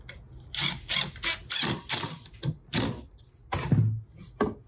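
A cordless drill drives screws into wood, making a series of short, close whirring bursts separated by brief pauses.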